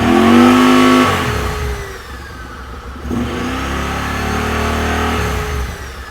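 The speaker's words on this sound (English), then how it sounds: "The final test is going to be to go ahead and rev the engine up and see if the fan speed increases with the revs." A 2019-2025 Honda Talon side-by-side engine revs up hard at close range, eases back, then climbs again and holds a steady high rev with a cooling fan whirring underneath.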